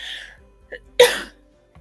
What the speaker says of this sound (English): I'm sneezing on the truth.